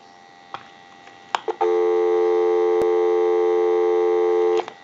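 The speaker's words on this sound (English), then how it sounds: "Go ahead and give you some dial tone." After a few clicks, a General Electric cordless telephone under repair gives a loud, steady, continuous dial tone that holds for about three seconds and then cuts off with another click.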